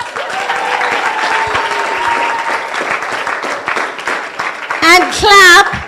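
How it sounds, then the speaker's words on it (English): Loud sustained applause from a symposium audience, steady throughout with some overlapping voices, swelling briefly near the end with cheering. "And clap really loud, Miss Tania Hernandez."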